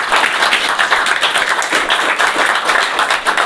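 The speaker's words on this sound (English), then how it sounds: "there must be clapping for this man as well" An audience breaks into steady, loud applause for a man, many hands clapping together at close range, with no voices over it.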